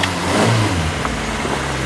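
A fire-singed Vauxhall Cavalier's engine runs and revs steadily, a continuous mid-low motor drone with a slight swell near the start, close and fairly loud throughout.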